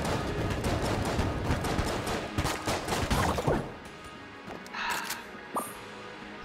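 Gunfire in Enter the Gungeon rattles as a fast run of sharp repeated shots for several seconds, then thins to a few scattered pops and clinks over a quieter game background.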